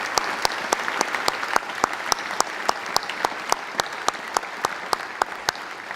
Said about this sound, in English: I think we should all give the American Legion a round of applause for everything they do for our friends